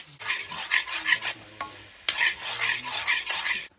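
A mixed vegetable stir-fry with Maggi sizzles in a pan on a gas stove while a utensil stirs and scrapes in quick, repeated strokes, close and fairly quiet.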